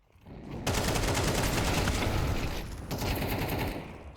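Gunfire in Counter-Strike on the Inferno map during a pro esports match, a loud sustained burst of rapid automatic shots with a brief lull before more firing.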